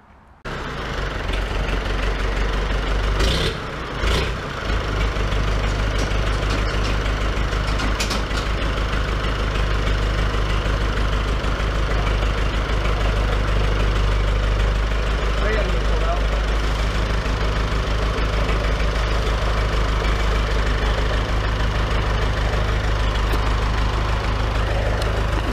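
A tractor engine idles close by, a steady low rumbling drone that continues unchanged, with a few brief knocks near the start.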